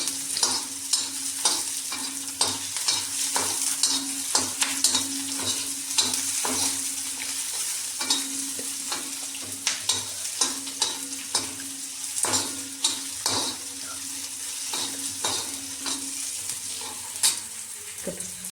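Food frying in oil in a pan while being stirred, a steady sizzle broken by frequent scraping strokes of the spoon, close and continuous with no talking.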